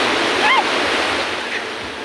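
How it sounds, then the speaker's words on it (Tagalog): Strong ocean surf washes in at a Philippine beach resort, a loud broad rushing roar close by, with a faint voice briefly above it. "Sabi, ang lakas ng alon."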